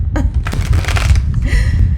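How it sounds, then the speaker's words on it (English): A deck of tarot cards is shuffled in a rough, papery riffle, loud and close, with a continuous rustling texture and a few sharper flicks over about two seconds. "I'm going to shuffle these cards again."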